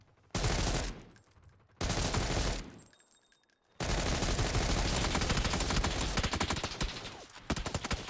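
Bursts of automatic gunfire with recoil in GTA Online, loud and close, coming in several sustained volleys separated by short pauses.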